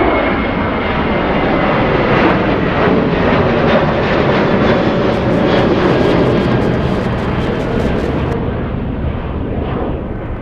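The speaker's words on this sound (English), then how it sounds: "Let's go for the next takeoff. Looks like we have a 737. This is a WestJet Spirit of Canada." A WestJet Boeing 737 in Spirit of Canada livery roars down the runway on takeoff, a loud, continuous broadband jet rumble with a rising whine that holds steady throughout, heard alone from a spotting position near the airport.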